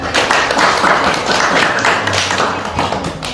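A burst of hand clapping from a group of children in a classroom, brisk and fairly loud, with a few scattered sharp taps.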